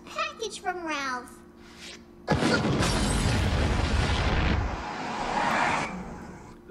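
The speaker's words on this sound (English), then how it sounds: "That sounded like an explosion at the old Simpson place." A cartoon explosion booms suddenly after a short spoken line, a loud, close blast that rumbles on for a few seconds before tapering off.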